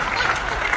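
Applause from the audience at a kavi sammelan poetry recital held at NTPC Unchahar, a dense steady wash of clapping filling the short moment with no pause.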